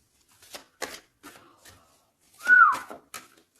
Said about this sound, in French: Non, c'est pas bien sifflé, pardon.